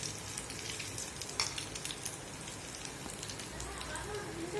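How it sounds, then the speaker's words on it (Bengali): Onions dropped into hot oil for piyaju, a steady soft sizzle and crackle of frying, fairly quiet and continuous, with a few sharper pops. "পেঁয়াজগুলো ছেড়ে দিচ্ছি।"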